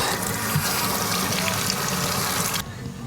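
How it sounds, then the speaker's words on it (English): Tap water runs steadily into a utility tub while greasy car parts from a 1966 Buick Riviera pinion job are washed, a continuous close splashing rush that cuts off abruptly near the end. "But for now, I just use my utility tub to clean my parts."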